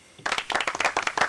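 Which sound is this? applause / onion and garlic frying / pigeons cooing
applause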